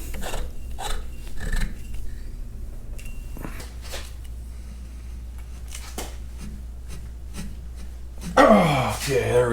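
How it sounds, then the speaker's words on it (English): Chain wrench tightening threaded exhaust extension pipe on a Farmall Super M tractor, with intermittent scraping and ratcheting rasps, close up, and a louder metallic burst near the end, under occasional talk. "Tightening it in with that chain wrench up top"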